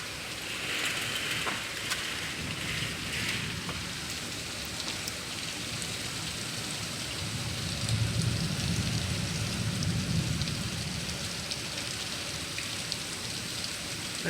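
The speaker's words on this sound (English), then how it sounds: "The rain is falling so hard" Heavy rain pours steadily off guttering and a rain chain by a lake, a dense splashing patter with a deeper rumbling swell midway.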